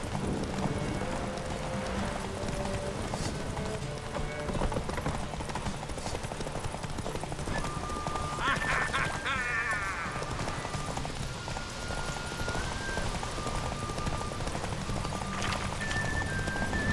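Horses clip-clopping at speed during a race in The Witcher 3, steady hoofbeats under game music with a brief whinny, heard throughout at moderate loudness.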